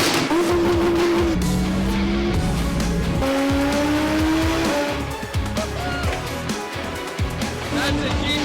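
Cars at a roll race between a twin-turbo Audi R8 and a 2007 BMW with a big single N54 turbo. Loud engine drone rises in pitch through gear changes, with a tire squeal and some talk mixed in.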